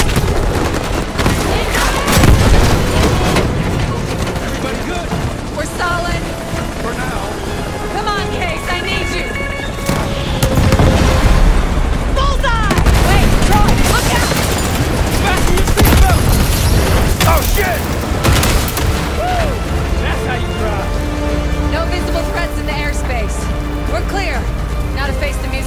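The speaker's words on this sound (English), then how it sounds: "We need to hit him with a rocket." Dense combat from the video game Call of Duty Black Ops 6: a string of deep booming blasts and gunfire rumbling through most of the stretch, loud and layered, with game characters talking over the action.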